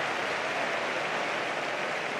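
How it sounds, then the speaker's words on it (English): Home fans of Eintracht Braunschweig applaud during a DFB-Pokal first-round football match against Hamburger SV, a steady, dense wash of stadium clapping that holds evenly throughout with no distinct voices. "it draws applause from the home fans"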